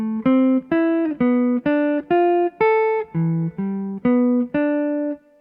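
Ten clear plucked notes climb and fall in a steady arpeggio of third, fifth, seventh and ninth with the root left out, each note sharply attacked and decaying, played alone.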